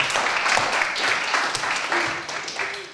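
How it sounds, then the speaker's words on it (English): A class of schoolchildren applauding a classmate in a room, with lively, uneven clapping that stays moderately loud before tapering off, while a voice or two sounds faintly underneath. "Give her a round of applause."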